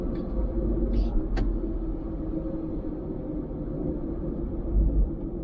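A Nissan Cube rolls along a highway toward an exit, a steady low engine and road rumble heard from inside the cabin, with a couple of brief faint clicks early on.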